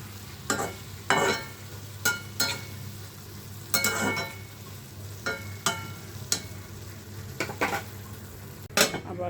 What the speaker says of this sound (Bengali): শাকটা একটু নাড়াচাড়া করে দিচ্ছি।